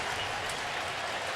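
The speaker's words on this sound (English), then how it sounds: "This Philly crowd has been loud" Philadelphia Phillies home crowd at a 2007 NLDS playoff game against the Rockies, a dense, steady roar of cheering and applause filling the whole moment without a break.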